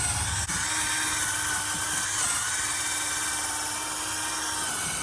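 A drill with a polishing attachment from a Meguiar's heavy-duty headlight restoration kit buffs a headlight lens, giving a steady, close, continuous whirring hum with a faint friction hiss that holds evenly throughout.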